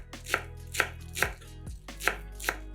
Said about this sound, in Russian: Нарезаем пучок зеленого лука